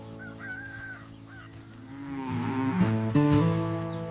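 Cattle on an American West ranch low in long drawn-out moos, one faint call first, then louder overlapping lows building toward the end, with no voices.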